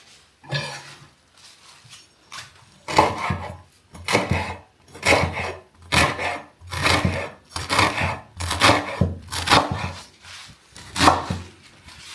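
A knife cuts through ugu (fluted pumpkin) leaves, a steady series of rough, crunchy slicing strokes about once a second, close and moderately loud.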